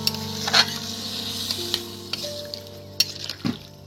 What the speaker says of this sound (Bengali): বন্ধুরা এবার এর মধ্যে আমরা জল দিয়ে দিচ্ছি এটাকে সিদ্ধ করার জন্য।